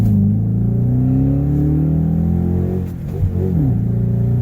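A 2013 Dodge Durango R/T fitted with a Pedal Commander throttle controller accelerates in a deep, loud, continuous engine roar that rises in pitch, briefly eases and then pulls again.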